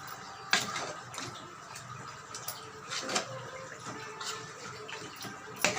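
Rinse water from a mixer jar poured into a pan of curry leaf chicken, a soft splashing pour with a few brief louder splashes, close and alone.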